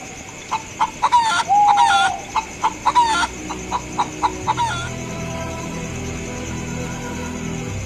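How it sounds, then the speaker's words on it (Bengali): A cartoon hen clucks in a quick run of sharp, loud bursts, some rising into a short squawk, then falls quiet as a steady background tone carries on. "এইটাই তাইলে সেই সোনার ডিম দেওয়া মুরগি"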